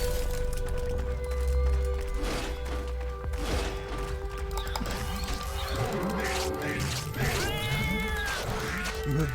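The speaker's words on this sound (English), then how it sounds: "Sometimes a cat will warn you when there's a fight coming because you'll hear him go meow." A cat meows in a video game, a drawn-out wail and a few shorter cries rising out of dense game noise, music and clatter, moderately loud and partly buried in the mix.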